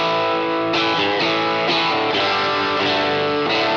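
An electric guitar on its bridge pickup with a little overdrive chugs out repeated, evenly spaced chords, bright, loud and close, alone without talk.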